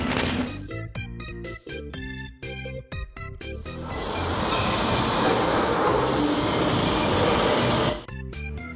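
A subway train rumbles and clatters on the rails with rhythmic mechanical thumps, swelling into a loud roaring rush before easing.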